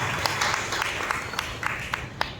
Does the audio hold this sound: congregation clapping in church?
yes